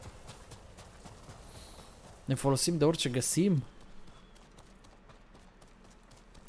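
Hooves clip-clop briefly as a horse moves through the video game Ghost of Tsushima, a few soft rhythmic steps under someone talking, with a short louder vocal burst in the middle.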